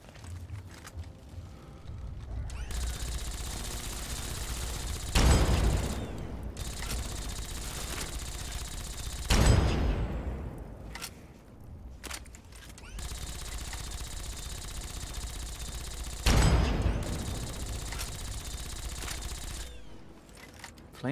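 A Gauss rifle in Fallout 3 fires three heavy, sharp discharges spaced several seconds apart over a humming, ambient background, each shot loud with a lingering tail.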